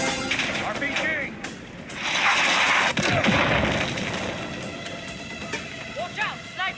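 RPG rocket fire and explosion in Call of Duty Black Ops 6: gunfire cracks and a booming blast amid battlefield noise, with shouted in-game voices over the combat.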